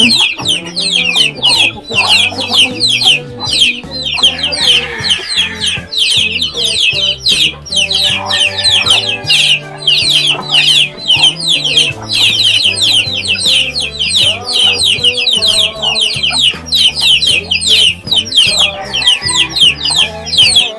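Many chickens cluck and squawk loudly and without pause, a dense, busy chorus of fowl filling the whole stretch.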